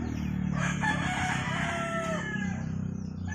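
A black hatch bullstag rooster crows once in a drawn-out, strained call lasting a few seconds, close and fairly loud, with faint clucking and farmyard noise beneath.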